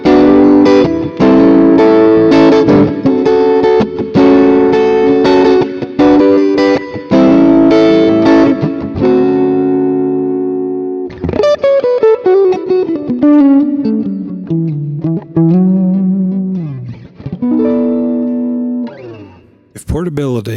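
Electric guitar played through a Mooer GE200 multi-effects pedal, cycling presets: choppy distorted chord stabs at first, then sustained, bending lead lines with echo and reverb tails, loud and close.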